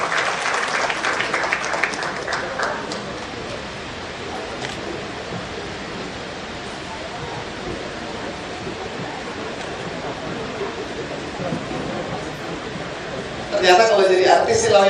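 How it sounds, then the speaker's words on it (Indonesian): An audience at a formal evening event with a sponsor applauds in a sustained, wash-like clapping that fills the middle of the clip. A voice talks briefly at the start, and speech returns near the end. "Tepuk tangan buat Indika Energy."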